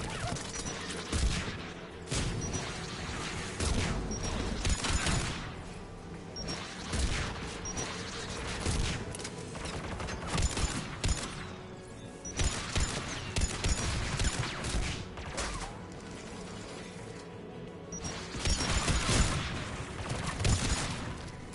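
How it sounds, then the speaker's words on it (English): Anti-aircraft guns in the video game Mass Effect 3 pound away in steady, repeated bursts of heavy gunfire that run without a break, layered with booming impacts and mechanical clatter. "AA guns ahead of us."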